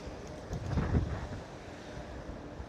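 Wind buffeting a microphone during a sunny bike ride in Ponta Delgada, São Miguel, Azores, a steady low rumbling roar with a slightly stronger gust near the start, no talk.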